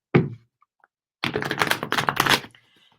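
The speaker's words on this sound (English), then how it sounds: "just shuffling the cards" Tarot cards are shuffled in a brief quick riffle, followed after a pause by a longer run of rapid, crisp flutters and snaps, close and fairly clear.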